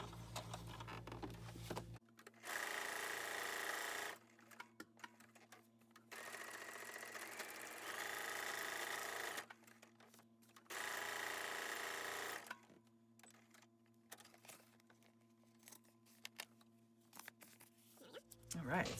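A sewing machine stitches through a paper collage pocket in three loud, steady whirring runs of a few seconds each. Quiet gaps separate the runs, and a person talks softly in them.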